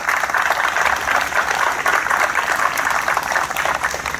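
An outdoor crowd at a fire department street-naming ceremony applauds the first responders, a steady, sustained wash of many hands clapping that stays even and loud for four seconds.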